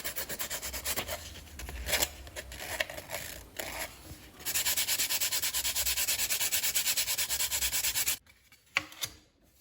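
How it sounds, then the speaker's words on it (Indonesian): Steady rasping fine sandpaper strokes rub back and forth close up on a hand launch glider, with a brief pause midway and a quieter stretch near the end. "amplas halus atas bawah serta bagian cekungan tadi"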